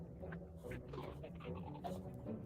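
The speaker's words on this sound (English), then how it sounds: "You're a good dog." Dog panting quietly in quick, rough breaths, a faint and uneven rhythm up close, with nobody speaking over it.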